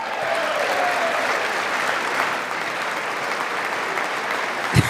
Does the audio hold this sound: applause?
yes